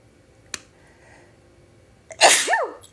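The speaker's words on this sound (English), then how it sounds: "Confirmation sneezes." A single loud sneeze bursts out near the end, preceded by a sharp click and a quiet stretch.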